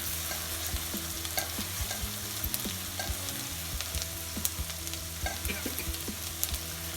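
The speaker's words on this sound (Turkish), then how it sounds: "Evet soğanımız kavruluyor." Onions sautéing in a pan for a spinach stem dish, a steady close frying sizzle with frequent clicks and scrapes of stirring throughout, no voices.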